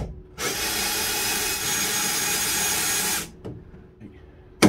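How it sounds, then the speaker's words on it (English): A power drill drives screws into wood, a loud, steady whirring burst of about three seconds close by, followed by a quieter pause and a brief click at the end. "I'll put a couple of screws in just while I've got the clamp there"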